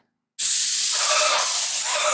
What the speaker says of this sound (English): Yeah, that's how you have to spray it.